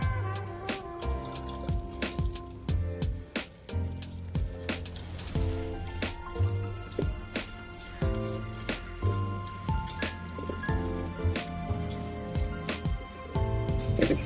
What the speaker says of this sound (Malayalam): ഇനി ഇതിനകത്തേക്ക് കുറച്ച് വെള്ളം ഒഴിച്ചു കൊടുക്കാം.